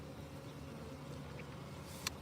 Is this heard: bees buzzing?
yes